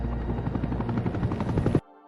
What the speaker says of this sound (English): so Sarah immediately boards a helicopter